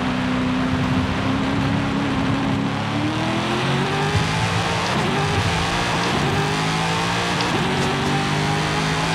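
Corvette engine in Forza Horizon 5 revving hard and shifting through its gears in quick succession, the pitch climbing and dropping with each smooth upshift, loud and continuous with no talking.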